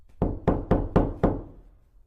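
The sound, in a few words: loud knock on a door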